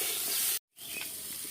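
Mashed taro frying in a pan with salt and turmeric gives a steady broadband sizzle, broken by a sudden brief dropout before the hissing returns.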